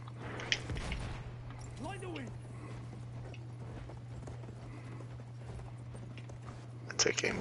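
Horse hooves approaching in the video game Battlefield 1, soft clip-clop steps under a constant low game hum, with faint scattered effects and a brief louder burst near the end.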